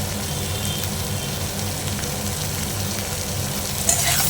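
Sliced onions fry steadily in hot oil in a pan for a bitter gourd and prawn curry, a dense, even sizzle close up with no talking.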